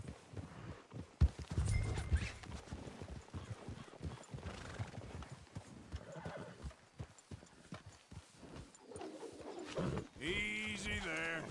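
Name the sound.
horses neighing and hooves clip-clopping in a film scene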